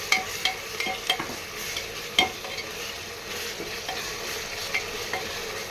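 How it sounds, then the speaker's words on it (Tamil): Ginger garlic paste being stirred into onion and tomato in a hot pan, with a steady sizzle and a few sharp clicks of a utensil against the pan, close up with no voices. "இப்போ இஞ்சி பூண்டு பேஸ்ட்டு சேர்த்துக்கலாம்."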